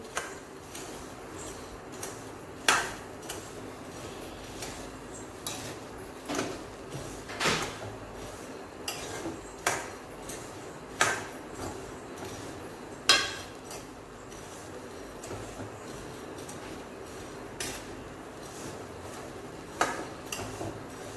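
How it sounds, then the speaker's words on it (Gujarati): Metal spoon stirring peanuts in an aluminium wok, giving faint, repeated scraping clinks and clacks at irregular intervals of a second or two, without speech. "આ રીતે સતત ચમચાના મદદથી ચલાવતા રહેવાનું છે"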